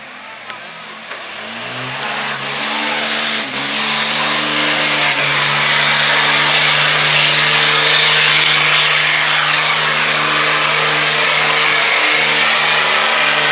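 A 2008 Dodge pickup with an early 6.7-litre diesel engine at a county fair truck pull revs up and holds a loud, steady roar for several seconds, with a rising then sustained engine note and some crowd noise.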